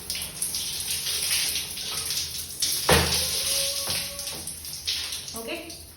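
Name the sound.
hot water poured over hair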